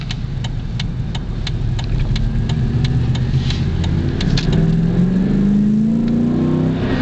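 A 2006 Dodge Dakota with a six-speed manual gearbox accelerates hard in second gear after a downshift. The engine note climbs steadily and grows louder toward the end, with a deep exhaust rumble and no talking.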